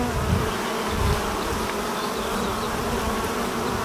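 Africanized honey bees swarm around an opened hive, a dense, continuous buzzing close by with no voices over it.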